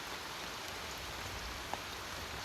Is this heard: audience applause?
no